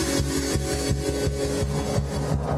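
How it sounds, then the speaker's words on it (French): A Bosch electric drill runs loudly and close, its motor giving a harsh, grinding buzz that pulses in a quick, even rhythm for the whole stretch. "Eh Michel, j'adore ta perceuse. C'est quoi? C'est une boche?"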